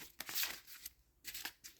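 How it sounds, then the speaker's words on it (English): Oracle cards being shuffled by hand, soft papery riffles and slides in two or three short bursts, close and quiet, with no voices. "I'm not the best at shuffling these cards"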